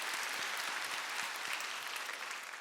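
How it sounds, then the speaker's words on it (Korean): Church congregation applause during a Korean sermon, a soft, even patter of many hands clapping, steady and fairly distant for the whole stretch. "우리 박수로 격려해 주셨으면 좋겠습니다"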